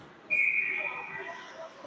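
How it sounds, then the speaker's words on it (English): A referee's whistle at a college club ice hockey game between Bridgewater State and UConn: one loud, shrill, sustained blast that starts sharply and slowly fades, with arena murmur beneath. "And a whistle."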